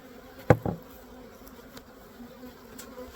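Honey bees dumped out of a box beside a beehive buzz faintly and steadily after a sharp thump or two near the start.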